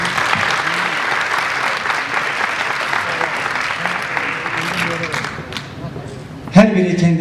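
Applause from the audience at an award ceremony for a traditional arts association, sustained, fairly loud clapping throughout, with a voice breaking in briefly near the end.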